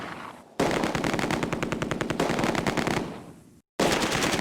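Rapid machine gun bursts in the Close Combat war game, a loud, evenly spaced rattle of shots lasting a few seconds, broken by short gaps and clipped at the end.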